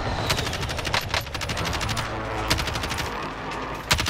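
Rapid gunfire bursts crack out in a Warzone match, several sharp volleys and single shots, loud and close, with a final shot near the end.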